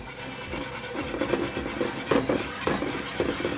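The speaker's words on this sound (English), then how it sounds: "make sure you stir really consistently, because you don't want that to clump" A whisk scrapes and rasps steadily through cheese sauce in a pan, a continuous close-up stirring texture with a few sharper clinks against the metal.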